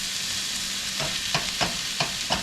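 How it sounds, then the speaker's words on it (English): A spoon stirring curry paste made with tomato paste as it fries in a pan, several scraping strokes in a loose rhythm over a constant loud sizzle, close up. "So let me stir this and then I'll add the other stuff."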